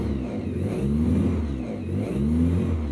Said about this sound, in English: So if I put the revs up a bit